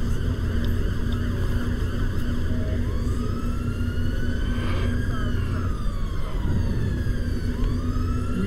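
Police car siren in a London transport bus driving game, rising and falling wails sweeping through over a constant loud bus engine drone, heard from a moderate distance with no talk.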